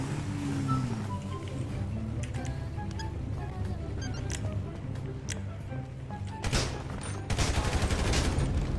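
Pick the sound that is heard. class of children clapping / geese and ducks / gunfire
gunfire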